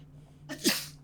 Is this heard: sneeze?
yes